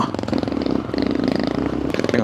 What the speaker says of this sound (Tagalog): Lakas ang motor ni kuya, oh.